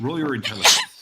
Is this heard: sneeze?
yes